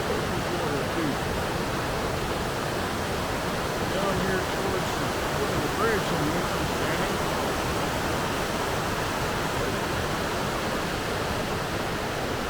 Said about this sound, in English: A lot of fast moving water.